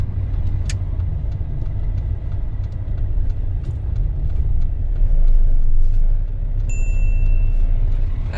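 A learner driver's car rides the clutch on a UK road, its engine rumbling low and steady from inside the cabin, swelling slightly before settling, with faint clicks and a short beep.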